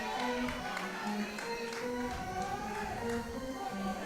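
A crowd murmurs at a high school baseball game between the Rouse Raiders and Georgetown Eagles, with scattered claps and chatter under an announcer's voice throughout.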